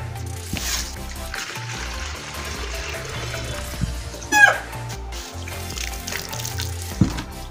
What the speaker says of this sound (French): Alors, ensuite, on va mettre de l'eau.